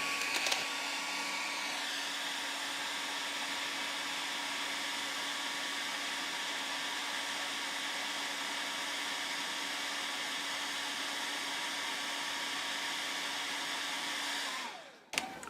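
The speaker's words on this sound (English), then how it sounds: "we're going to simulate the wind by turning a hairdryer on it" A hair dryer blows steadily and loudly for the whole stretch, a constant whooshing whine that cuts off abruptly near the end.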